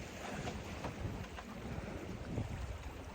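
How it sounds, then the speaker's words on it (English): Water lapping steadily against the hull of a sailboat under sail with no engine running, in thick fog and freezing cold; a soft, continuous wash with faint irregular splashes and wind noise, no voices. "You just hear the water lapping."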